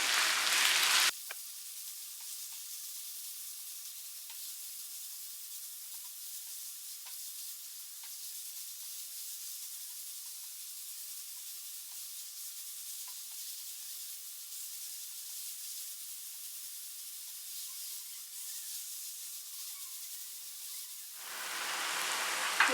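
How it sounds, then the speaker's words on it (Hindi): Minced keema sizzles steadily in a pan with lightly fried onion, ginger and garlic, a continuous high hiss that holds for about twenty seconds with faint scrapes, no voices over it. "अब इसमें कीमा डालेंगे और कीमे को अच्छी तरह से भूनेंगे"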